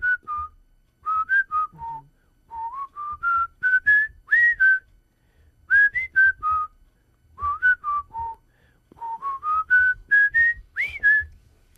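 A man whistles a melody, played as a radio snippet: bright, clear phrases in short bursts with brief pauses between them, over a faint backing accompaniment.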